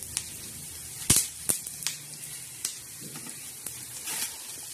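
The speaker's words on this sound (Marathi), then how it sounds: "तेलात प्रथम आपण काय टाकणार आहोत तर धने टाकले तर छान असे धने भाजून घ्यायचे लालसर" Coriander seeds roast in hot oil for a black masala, a soft continuous sizzle punctuated by sharp pops and crackles, a few loud near bursts early then lighter spits.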